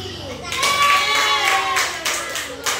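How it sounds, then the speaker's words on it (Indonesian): A class of students claps for a fellow student, a burst of close hand claps starting abruptly and running a couple of seconds alongside children's chatter and a voice, then tapering off. "sekarang beri tepuk tangan kepada Putri"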